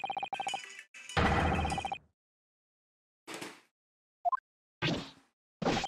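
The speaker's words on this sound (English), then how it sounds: "Phone call." Video game phone ringing in The Great Ace Attorney Chronicles: clipped electronic rings in quick bursts, followed by separate short chimes, a whoosh and plopping interface blips with silent gaps between them.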